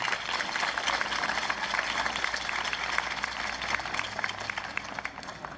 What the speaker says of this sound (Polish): Brawa dla Niny Moniki Szwarc